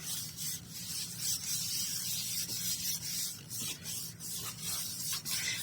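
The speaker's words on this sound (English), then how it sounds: "And rub that down into place." Soft, quiet rubbing strokes as paper is pressed down into place on a journal page, a close repeated scuffing texture with no talking.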